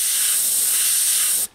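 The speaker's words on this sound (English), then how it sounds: "switching back to black, I'm going to line that up more or less in the middle when the black is mating with white, and spray black directly underneath" An airbrush sprays black paint through a stencil to shade the underside of 3D-looking rivets, giving a steady, loud, close hiss for over a second that cuts off abruptly.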